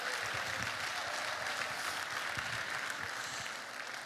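Warm, continuous applause from an award ceremony audience at a conference, dense clapping heard from a moderate distance and holding steady before easing slightly at the end.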